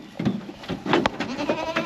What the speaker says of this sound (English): Oh, there's sheep down there.